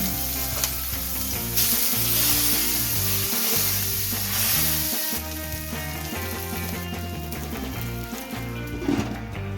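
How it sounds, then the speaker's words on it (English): Vegan Impossible and Beyond burger patties sizzle in a pan with a constant hissing fry, partly masked by loud background music that plays throughout. "Time to finish cooking the burgers."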